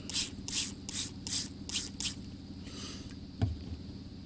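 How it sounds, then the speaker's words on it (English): A spray bottle of water gives a rapid series of short, close hisses, about six quick pumps, into a tarantula enclosure, followed by quieter dripping and a small knock. "We'll go ahead and just spray some more in there and see what happens."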